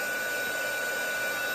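A handheld heat gun blows hot air in a steady, even whoosh with a faint whine, running continuously close to the microphone while a baking soda faux velvet Christmas ornament is being made.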